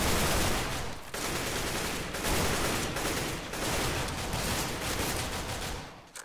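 Sustained automatic gunfire in the CS:GO video game, aimed at a fence: dense, loud bursts of shots broken by a few short pauses, with no talking over it.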